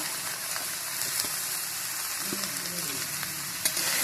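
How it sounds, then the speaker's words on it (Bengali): Pumpkin stems with salt and turmeric sizzle in a pan while being stirred, a steady close frying hiss dotted with soft scraping and a sharp clink near the end. "ভালো করে নেড়ে নেব"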